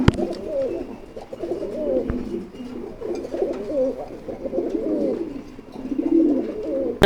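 Pigeons cooing on a pigeon farm, layered soft throaty coos in overlapping rounds, close and fairly loud, with no talking.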